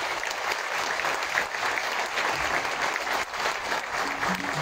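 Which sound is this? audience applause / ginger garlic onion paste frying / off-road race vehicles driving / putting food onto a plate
audience applause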